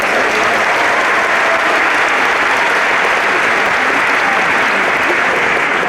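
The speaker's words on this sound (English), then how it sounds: "Give yourselves another round of applause." Crowd at a naturalization ceremony in Oakland, California giving a loud, dense round of applause, continuous and even throughout, like a large hall full of clapping with no voices standing out.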